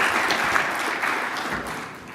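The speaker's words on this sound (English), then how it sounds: "please give Mr. Nikhil Rathi a warm round of applause" Audience applause after a speech at the JITOPRENEURS 2017 business event in London, a dense steady clatter of many hands that runs evenly and fades slightly toward the end.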